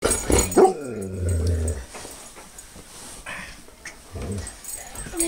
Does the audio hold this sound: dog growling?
yes